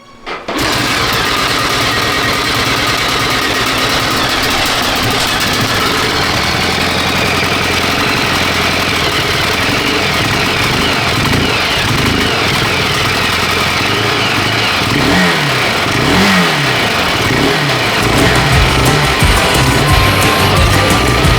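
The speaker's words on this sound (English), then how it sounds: "I really just need this to fire up, and fingers crossed that there's nothing wrong with the inside of this engine." A restored Honda XR600R motorcycle engine starts abruptly and runs loud and close, with uneven revving swells that rise and fall toward the end over a steady rough idle.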